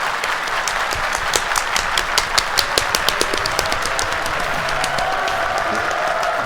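Crowd at an ESL One Birmingham esports match applauds in dense, sustained clapping with sharper individual claps standing out, a large indoor audience filling the space for several seconds.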